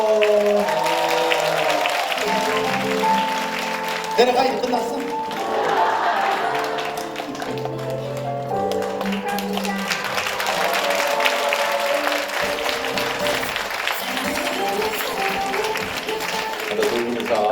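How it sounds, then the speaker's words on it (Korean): An audience at a Korean healing talk concert claps after a couple kisses on stage, with music playing and voices talking over the applause. "뽀뽀 한번 하면 박수 한번 주세요"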